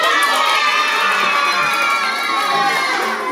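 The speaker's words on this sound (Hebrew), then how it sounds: "מי יודע לעשות שני דברים ביחד? גם מחיאות כפיים וגם לצעוק חזק?" Children clapping and shouting loudly at a ninth birthday party, a dense, continuous roar of young voices and cheering filling the room at high volume.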